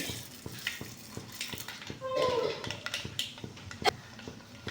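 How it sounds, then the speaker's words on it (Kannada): Mustard seeds pop and crackle in hot oil in a pan for rasam, with scattered sharp clicks and utensil scrapes at moderate volume. "ಸಾಸಿವೆ ಹಾಕೊತಾ ಇದ್ದೀನಿ"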